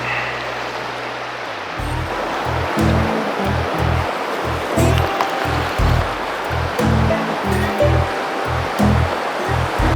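River water rushing steadily at a trout fishing spot, a continuous broadband wash of flowing current with low rhythmic thumps in the foreground, loud and close throughout.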